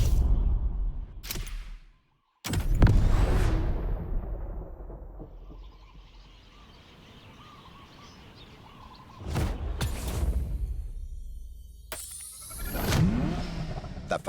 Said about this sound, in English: The Ferrari F40. Enzo Ferrari's ultimate vision.